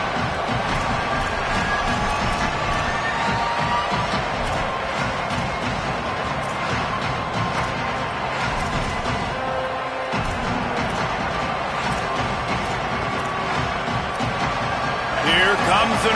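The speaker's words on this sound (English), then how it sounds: "Here comes the noise from this big crowd in Happy Valley on 3rd down" A big stadium crowd roars in Happy Valley on third down in a college football video game, a steady loud wash of cheering that runs under continuous commentary.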